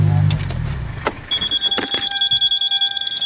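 A modified car with a broken turbo gives a run of short, even electronic beeps, rapid and regular. A thump and some clatter come first, and no one speaks over the beeping.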